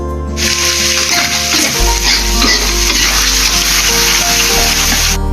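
Spice paste for a tofu filling sizzles loudly in hot cooking oil with a little ground pepper, a dense, continuous frying hiss broken by stirring scrapes, close up and without talk.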